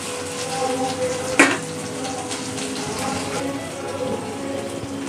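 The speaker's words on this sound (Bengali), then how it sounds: "একটা তেজপাতা ফোড়ন দিয়ে দিলাম" A bay leaf drops into hot oil for tempering, giving a steady broadband sizzle with a sharp crackle burst early on, then settling into an even hiss.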